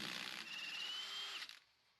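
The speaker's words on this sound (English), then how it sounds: "Now I'm gonna use an impact" A power tool, probably an impact wrench, works loose a CV axle nut on a 2001-2010 Chrysler PT Cruiser, buzzing loud and close in a steady two-second burst before cutting off abruptly.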